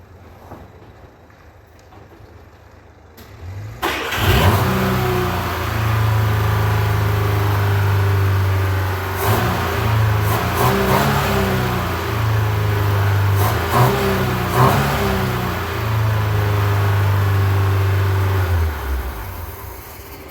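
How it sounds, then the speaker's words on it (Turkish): An old Ford Otosan P100 pickup engine cranks and catches after a few seconds, then idles with a loud, steady low rumble and occasional revs, close by and without speech. "Aracın motor, motoruna bir marş verelim. Bakalım neler oluyor, nasıl bir sesi var görelim"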